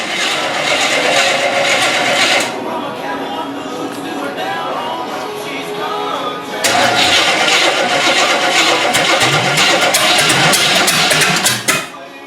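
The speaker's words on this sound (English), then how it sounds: "Chris is trying to get Keith's truck fired up" A heavy truck engine in a workshop cranks and fires up loud and close, turning over roughly, dropping to a lower rumble, then surging again into a strong running roar before cutting back near the end.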